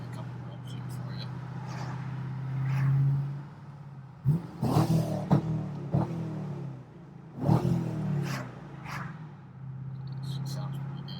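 A 2011 Chevrolet Camaro SS V8 engine idles with a deep burble, then is revved hard two or three times in sharp roaring bursts before settling back to idle.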